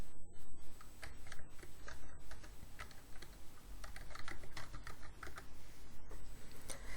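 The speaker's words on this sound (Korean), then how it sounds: "키보드를 눌러서 내용을 바로 입력하시면 됩니다." Keys on a computer keyboard are tapped in quick, uneven bursts of soft, close clicks, with short pauses between runs and no talking.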